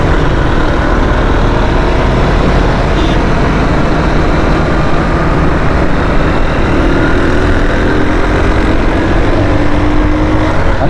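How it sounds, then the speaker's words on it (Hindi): A motorcycle speeds up while climbing the Nipa bridge in Gulshan-e-Iqbal, Karachi, its engine and road roar loud, steady and close, blended with heavy wind and traffic noise throughout. "हमने अपनी मोटरसाइकिल की रेस जो है थोड़ी सी तेज़ की, थोड़ी सी भगाई"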